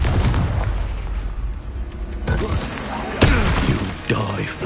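In the Hogwarts Legacy video game, a Confringo blasting curse lands as booming explosive bursts with shattering debris over continuous battle noise, while a voice shouts over the action.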